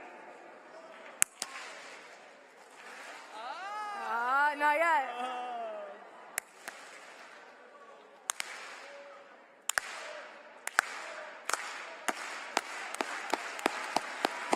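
Single sharp claps from a crowd ring out, slowly at first and then faster and more regular, after a stretch of voices and a drawn-out vocal sound.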